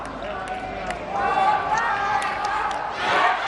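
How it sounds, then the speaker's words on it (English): A Vietnamese crowd roars for favourite Le Van Tuan at a SEA Games 31 pencak silat bout in Vietnam, a dense, swelling din of voices rising in waves beneath a commentator talking over it. "you can hear the Vietnam crowd getting right behind the favourite, Le Van Tuan"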